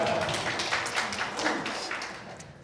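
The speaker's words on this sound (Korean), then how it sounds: "박수 치셔도 됩니다." A conference audience applauds after a speaker's introduction at a Jira session, a dense patter of many hands clapping that gradually fades out over a couple of seconds.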